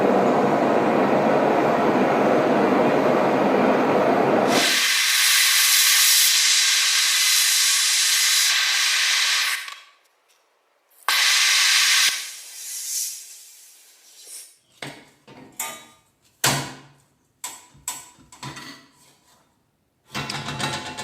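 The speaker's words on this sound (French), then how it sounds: "Je vais utiliser la torche portative ici pour pouvoir chauffer la plaque et réaliser des soudures." A handheld torch heating a stainless steel plate for welding gives a loud, steady roaring hiss that cuts out, returns briefly, then breaks into short sputtering bursts and pops with silent gaps.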